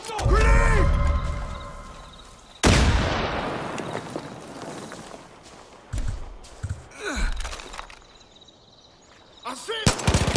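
Gunfire and a grenade blast in the video game Far Cry 5, with bursts of shots and a sharp loud impact midway, plus gasps and voices over the combat.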